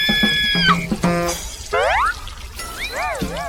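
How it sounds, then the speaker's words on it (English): A cartoon water splash from a watering can in a garden, mixed with bouncy springy sound effects and rising and falling whistle-like tones, loud and close. "He splashes Peppa instead."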